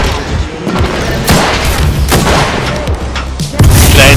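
A grenade explodes in an Apex Legends match, with several heavy booms and thuds punctuating loud gunfire-like bursts in quick succession.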